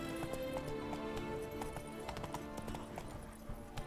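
Roach the horse gallops in The Witcher 3, a steady rapid clip-clop of hooves carrying on throughout at moderate loudness with no talk over it.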